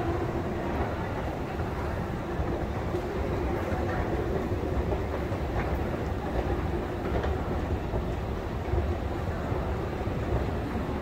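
A metro train runs through Toledo station in Naples, a steady, loud rumble with faint clickety-clack across the whole stretch and no talking.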